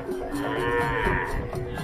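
Cattle at a livestock market on Sapudi Island give a sustained, deep moo, loud and close, with more lowing and crowd noise from the market around it.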